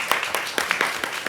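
Brief, light clapping from a few people at a city council workshop, applauding the accounting team, a handful of irregular claps with some room murmur beneath.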